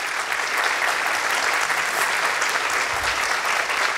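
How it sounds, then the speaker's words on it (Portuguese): Warm, continuous clapping from an audience at the opening of a formal academic assembly, an even wash of applause throughout with no pauses. "que eu peço uma salva de palmas"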